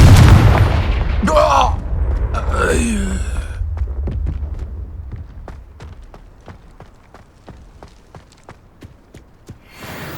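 Confringo spell explosion in the Hogwarts Legacy video game, a heavy booming blast near the start with a rumbling tail, followed by short voiced grunts and a run of rhythmic footfall-like taps fading out.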